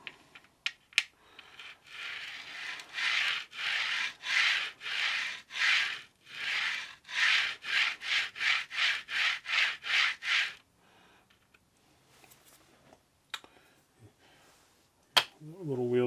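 Rhythmic sanding strokes rasp back and forth across a model railway practice board, a quick run of close, even rubbing passes that stops abruptly, followed by a few faint clicks and handling noises.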